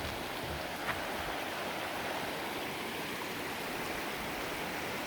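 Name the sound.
creek flowing near a trail bridge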